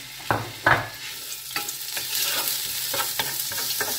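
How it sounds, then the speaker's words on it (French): Onions fry in oil in a saucepan, a steady soft frying hiss broken by a few sharp clinks and scrapes of a utensil stirring. No talking. "j'ai déjà mis mes 2 cuillères à soupe d'huile dans la casserole. Et je vais faire revenir mes oignons."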